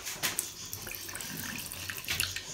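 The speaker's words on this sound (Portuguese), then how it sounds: "Aqui é a pia, pessoal." Water runs from a tap into a bathroom sink, a soft continuous splashing with faint clatter, heard quietly with no talk.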